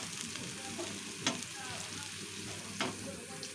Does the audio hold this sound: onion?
yes